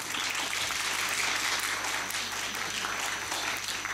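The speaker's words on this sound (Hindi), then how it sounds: "तालियां आप बजा सकते हैं" A comedy show crowd gives a sustained round of applause, thick and even, with many hands clapping at once the whole time.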